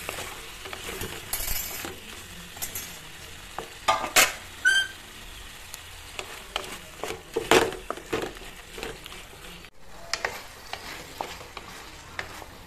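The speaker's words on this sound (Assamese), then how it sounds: "আলুৰ সৈতে এইখিনিও 1 মিনিটমান সময় ভাজিলোঁ" Potatoes sizzle steadily in a hot pan while a utensil stirs and scrapes, with occasional clinks of metal against the pan.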